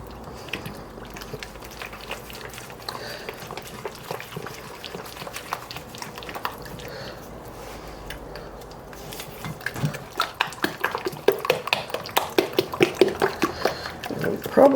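A spatula mixes dry spices, including ground cloves and salt, in a bowl for a holiday dessert: quiet soft scuffing at first, then a faster run of rhythmic scraping taps near the end.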